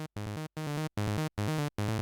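Psy bass line sequence from an Arturia MiniFreak synthesizer: four loud, punchy bars of a rolling, harmonically rich bass pattern, each separated by a brief silent gap, with no voice.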